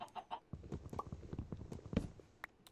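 Chickens in Minecraft cluck in short, soft bursts, several quick clucks close together, faint and alone.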